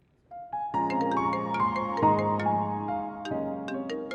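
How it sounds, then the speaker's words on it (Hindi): A phone ringtone plays a steady, bright electronic melody of repeating tones, starting after a brief quiet moment and continuing loudly and clearly on its own with no voices over it. "ऑफिस से फोन भी आ रहा है।"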